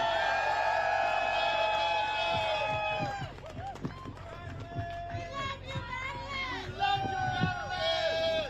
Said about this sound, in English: Big round of applause for Madeline Beckett